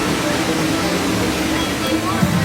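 Rushing water roars at the Kali River Rapids raft ride at Knott's Berry Farm, a dense, loud, unbroken wash of churning spray with people's voices mixed in.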